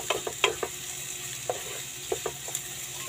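Onions fry in a pan to brown for shrimp carbonara, a soft steady sizzle broken by several sharp clinks and scrapes of a utensil stirring, close by and without talking.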